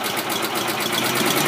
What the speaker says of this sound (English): It idles real good.